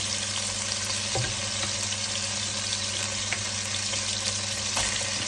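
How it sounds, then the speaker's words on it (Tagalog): Chicken sautés in its own rendered fat with garlic and onion for adobo, giving a steady, close, dense sizzle with a few faint clicks from the pan throughout. "gisa po natin yung chicken hanggang sa lumabas yung kanyang mantika"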